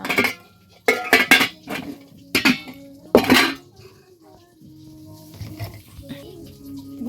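Plates and pots clatter and clink in a home kitchen as someone washes dishes, with sharp bursts of ceramic knocks separated by quieter gaps, and faint talk in the background.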